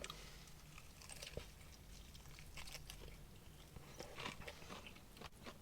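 Someone bites into piping hot fried chicken from a three-piece classic box, making close, crisp crunches and wet chewing that continue in an uneven rhythm.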